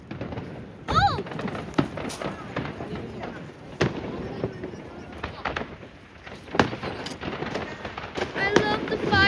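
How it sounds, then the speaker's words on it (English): Fireworks burst in a rapid string of sharp bangs and thumps with crackling tails, fairly close, while excited voices exclaim over the display. "I love the fireworks."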